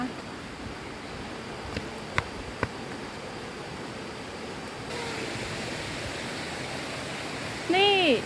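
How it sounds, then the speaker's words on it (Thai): Steady broadband rushing of Pha Tat Waterfall, Thong Pha Phum, Kanchanaburi, Thailand, constant and fairly close, with a few faint clicks and a brief whistling call near the end. "ได้ยินเสียงน้ำตกแล้ว"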